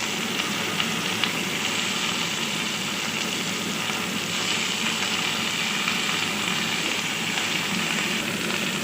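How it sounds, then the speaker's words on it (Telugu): Brinjal pieces fry in a pan for Andhra-style vankaya curry, giving a dense, even hiss that holds steady throughout, moderately quiet with no talking. "ఒక 2-3 మినిట్స్ ఇలా ఫ్రై చేయాలి."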